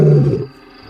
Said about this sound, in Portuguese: O rugido dele era dos mais estranhos e incríveis de todos os leões.